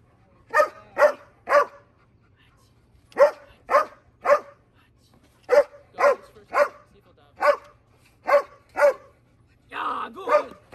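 A protection dog barks during a training session, in tight bursts of two or three sharp, loud barks separated by short pauses, ending with a rougher, muffled growl.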